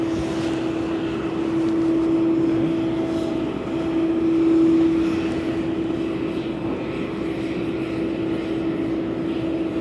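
A DHL Boeing 767 cargo jet pushing back at East Midlands Airport gives a steady engine drone with a strong sustained hum that swells twice, heard alone without talk.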